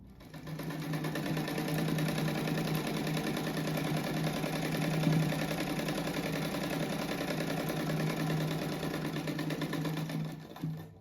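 Sewing machine stitching fabric patchwork squares for a rag rug, a steady fast whirring hum with rapid needle chatter, close and continuous for nearly the whole stretch.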